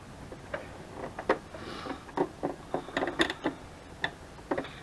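A small sewing machine stitching through paper for altered playing cards, giving irregular clicking bursts and short mechanical ticks, close and fairly clear, with no talking.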